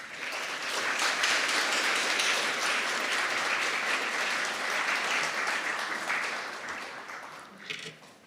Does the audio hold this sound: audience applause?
yes